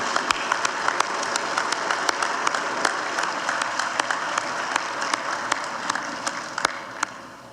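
Steady crowd applause at a business forecast luncheon, honoring Mary Ann at the Mary Ann Greenwood Award, continues evenly for about seven seconds, with a few crisp nearby claps standing out above the wash of the room.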